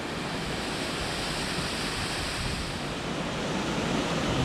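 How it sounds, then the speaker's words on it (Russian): Small lost waterfall on the left tributary of the Lyuka river, blocked by fallen trees in a gorge, gives a steady, broad rushing roar of falling water that holds even and unbroken throughout, with no voices. "Вот такой затерянный водопад."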